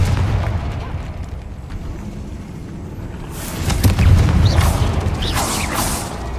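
The Confringo fire spell in Hogwarts Legacy on PC: a muffled rumble builds into loud, crackling explosive bursts with sharp pops and debris over the last few seconds.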